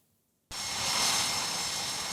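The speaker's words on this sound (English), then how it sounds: "The constant whine of jet engines, day and night aboard this carrier." F/A-18 Super Hornet jet engines roar aboard the aircraft carrier USS Harry S. Truman in the Mediterranean; after a brief silence a loud, steady, broadband whine and rush cuts in abruptly and holds.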